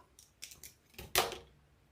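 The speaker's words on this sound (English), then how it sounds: "Cut the excess off." Scissors snip off excess deco mesh on a Christmas wreath: several quiet close-up cuts, the last one a sharper, louder crunch, with no speech.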